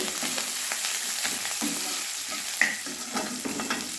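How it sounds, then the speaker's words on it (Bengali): Black mustard seeds fry in hot mustard oil for a cabbage dish, giving a close, steady sizzle. Quick stirring scrapes and small pops break through it in short bursts, with no voices. "এবার সর্ষে দিয়ে দিলাম, কালো সর্ষে তেলে খানিকটা ভেজে নেব।"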